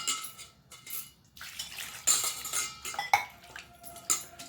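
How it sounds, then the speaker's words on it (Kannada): Water sloshes and splashes as flattened rice is washed in a metal pot in uneven bursts, with clinks of the vessel against utensils and no one speaking. "ಅದಕ್ಕೆ ಸ್ವಲ್ಪ ನೀರು ಹಾಕಿಬಿಟ್ಟು ಸರಿ ತೊಳ್ಕೊಳ್ತೀನಿ"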